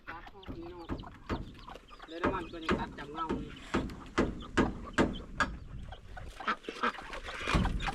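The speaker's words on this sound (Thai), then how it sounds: "เอาเป็ดเอาไก่มาขังให้นี่" Ducks and chickens cluck and quack in a pen, a busy run of short calls close by, mixed with people talking over and between them.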